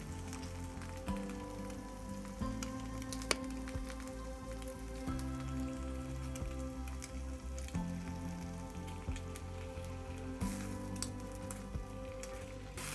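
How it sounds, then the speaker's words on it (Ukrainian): Eggs and bacon frying together in a pan, crackling with a steady sizzle and scattered sharp pops, close and continuous with no voices. "Перевертаю бекон і перевертаю яйця, щоб обсмажити з двох сторін."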